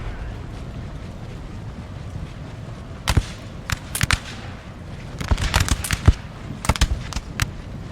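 Musket volleys crackle in a Napoleon Total War recreation of the 1809 Battle of Wagram, a series of sharp irregular gunshot bursts over a low battle rumble, some shots clustered together and others isolated, mostly mid-distance.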